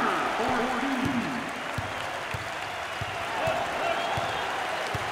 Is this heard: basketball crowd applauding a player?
yes